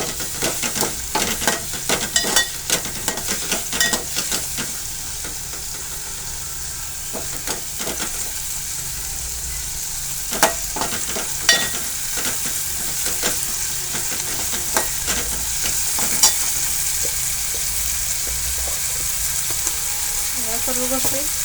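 Chopped tomato frying in hot oil for dal tadka, being stirred: a steady close sizzle runs throughout, broken by repeated spoon scrapes and clinks against the pan, with no talk.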